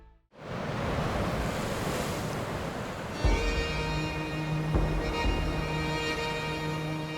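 Sea waves on the Shetland coast surge and wash steadily for several seconds, a broad continuous roar of surf mixed with wind buffeting, with a couple of heavier swells breaking partway through.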